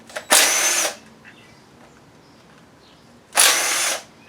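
An impact power tool backs bolts out of a 2007 Chevy 5.3 V8 engine during a rebuild. Two loud, close bursts of about half a second each, separated by quiet shop background.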